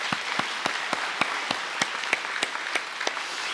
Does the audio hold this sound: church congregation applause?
yes